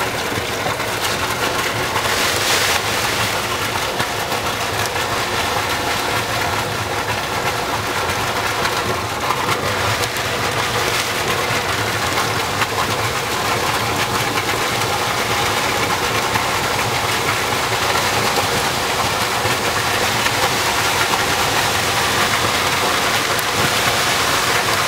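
A brine mixing machine's motor runs continuously while calcium chloride is mixed into water, a steady broadband rushing drone with a low hum underneath, unbroken throughout with no voices.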